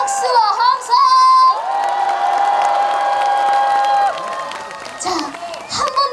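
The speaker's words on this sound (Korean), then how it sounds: "다 같이 박수와 함성!" A concert audience at an outdoor trot music stage cheers and shouts with scattered applause, a loud, sustained crowd roar that swells and then tapers off near the end.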